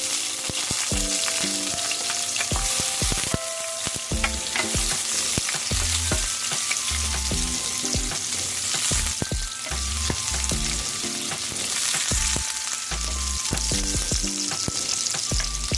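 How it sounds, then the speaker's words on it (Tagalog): Onion sautéing in a pan for a pork and vegetable stir-fry, a loud, continuous sizzle with busy scraping and clattering from stirring running throughout, with no talking. "At igisa na natin ang ating sibuyas."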